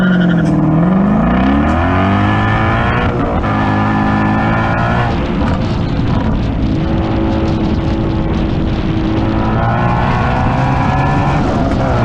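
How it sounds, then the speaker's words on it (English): Ford Mustang GT350 launching and accelerating hard at spectator drag races, its loud engine revving and rising through gear changes with a continuous roaring exhaust, close and dominant throughout. "Oh, it's a GT350. We got a Mustang boy down here."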